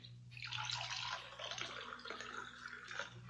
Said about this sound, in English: Now, pour the milk into it